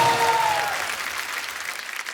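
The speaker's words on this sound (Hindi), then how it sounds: "जोरदार तालियां एक बार मान साहब के लिए।" A studio audience at a comedy talk show claps loudly for an arriving guest singer, a dense burst of applause that slowly fades over a couple of seconds, with a brief tone at the very start.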